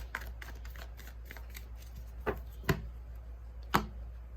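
A tarot card deck is shuffled and cut by hand, giving soft riffling flutters followed by three sharper snaps of cards being cut, close and fairly quiet.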